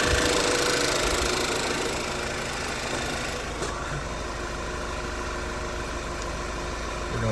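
A 2013 VW Tiguan engine idles steadily during low oil pressure testing, giving a continuous even hum with a faint mechanical ticking, close by and without talk.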